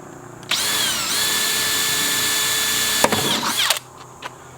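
A power drill whines steadily at close range, its pitch dipping briefly, then it grinds and bites through a plastic bucket before stopping abruptly.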